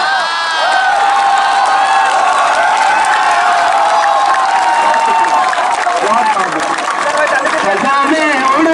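An audience at a poetry mushaira at JNU breaks into loud, continuous applause mixed with cheering and shouts, a dense crowd roar filling the whole stretch without pause.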